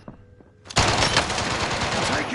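Gunfire in a Resurgence trios battle royale match, a sudden loud burst of rapid automatic fire that bursts in after a quiet moment and keeps going as a dense clatter, with faint game sounds underneath.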